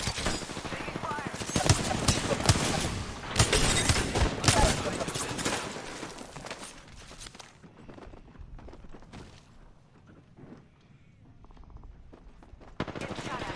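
Dense bursts of video game gunfire, rapid overlapping shots and a fusillade loud for the first seven seconds, then sparser, fainter pops and thuds through the rest, with a voice speaking over it.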